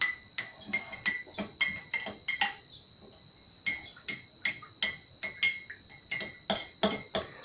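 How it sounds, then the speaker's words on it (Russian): Spoon stirring a pepper mixture in a glass of milk, a rapid series of bright clinks of metal on glass in an uneven rhythm, with a short pause midway, close and fairly quiet. "размешиваем в стакане молока"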